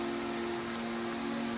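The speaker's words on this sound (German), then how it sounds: "Regen, keine Wetterveränderung." Rain falling during a Total War: Pharaoh battle makes a dense, continuous hiss of steady rainfall with a faint low hum underneath, unbroken across the short stretch.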